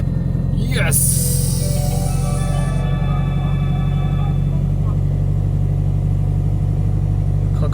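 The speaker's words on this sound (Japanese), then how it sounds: "これからエンジンをかけてどうなるのかチェックしていこうと思います" A Subaru Impreza engine cranks briefly and catches, then settles into a steady, close low rumble at idle with no talking.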